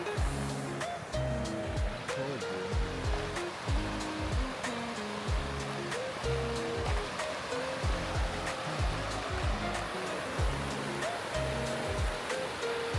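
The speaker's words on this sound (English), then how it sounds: "The river is so clear." Clear river in Yosemite National Park flowing steadily, a constant rushing wash of water heard close, with faint scattered clicks and thumps on top and no talk.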